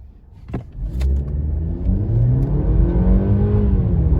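A 2024 Mercedes-Benz E350 4Matic accelerates hard, its engine note rising steadily with audible gear changes as it pulls through first and second, loud and continuous with no talking.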